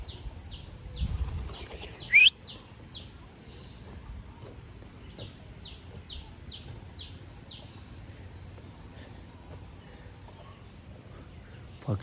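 Birds flap their wings inside an aviary cage: a short burst of fluttering early on, then a run of soft, evenly spaced high chirps, fairly faint against quiet background.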